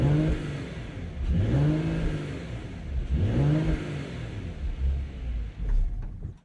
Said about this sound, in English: why don't we give a quick little exhaust clip